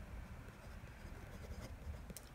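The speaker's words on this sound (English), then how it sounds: "So here we have some Clairefontaine paper. I thought I'd do a very quick writing sample." Brass fountain pen nib scratching across smooth Clairefontaine paper in a quick writing sample, a faint, close, continuous scritch with small strokes and no voices.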